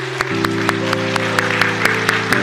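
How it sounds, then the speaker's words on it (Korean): A church congregation applauds on Christmas to welcome a surprise visit from the president and his wife, with steady broadband clapping running through while a sustained low organ or keyboard chord plays beneath and a few sharper claps stand out. "박수로 환영해 주시기 바랍니다"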